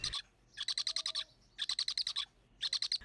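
A captive Asian wood owl at a zoo calls in three close, loud bursts of rapid, evenly spaced hooting notes, separated by short pauses.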